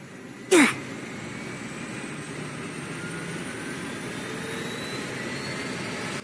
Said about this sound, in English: So we're gonna start the engines, listen to the sounds.